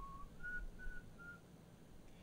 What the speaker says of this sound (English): looking away with pursed lips, whistling and twiddling his thumbs